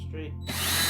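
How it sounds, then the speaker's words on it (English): A power drill starts up against wood during the build of a Halloween candy chute slide. After a brief near-silent moment, a sudden close, loud burst of drilling noise begins and continues to the end. "Now take our drill. Now we're gonna drill"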